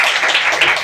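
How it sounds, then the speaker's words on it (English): An audience in a Mumbai hall claps for the accompanists at a concert of raga-based songs: a brief, dense, even burst of many hands applauding together at fairly close range. "Ladies and gentlemen, they deserve a special clap"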